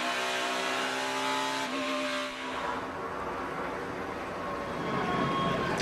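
A NASCAR race car on a qualifying lap at Phoenix, its loose back end twitchy on throttle, engine drone shifting pitch as it backs up the entry into a turn, with a steady roar continuing at a distance.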